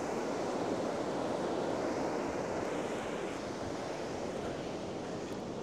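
Ocean surf crashes and washes along a beach where someone is fishing, a dense, continuous roar of breaking waves mixed with wind noise on the microphone, loud and steady throughout.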